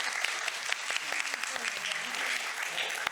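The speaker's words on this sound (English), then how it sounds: "So, we applaud them." Moderate applause from a small group at a conference, scattered claps blending into a steady patter for a few seconds.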